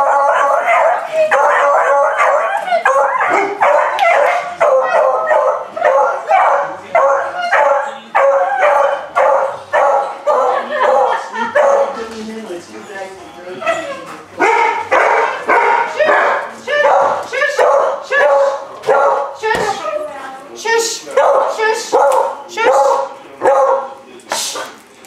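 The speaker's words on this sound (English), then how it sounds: "Every time the dogs come home." Several pet dogs bark excitedly and nearly nonstop as a family member arrives home, with loud, rapid yaps and occasional howl-like cries, mixed with people talking and cooing over the noise.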